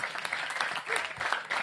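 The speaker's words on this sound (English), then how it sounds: "let's give Ronnie a great round of applause." Sustained applause from a crowd at a public event with the mayor of Washington, D.C., dense steady clapping at moderate distance throughout, with a faint voice or two mixed in.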